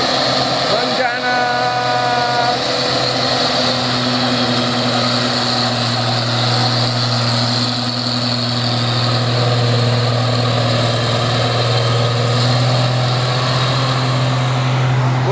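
Heavy tanker trucks drone loudly and continuously as they labor up a steep hill at Tanjakan Bukit Kodok, a deep steady rumble with a rising whine early on, with talking over it.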